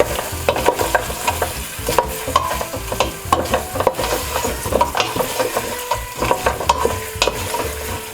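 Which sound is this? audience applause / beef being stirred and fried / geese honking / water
beef being stirred and fried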